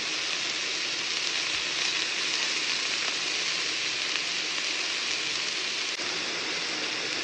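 Mint chicken frying in oil on a tawa, a steady, dense, even sizzle running continuously throughout at moderate level, with no voices.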